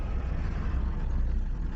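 Small vehicles roll past on a highway with a steady low engine and tyre rumble, fairly close and continuous, with no voices.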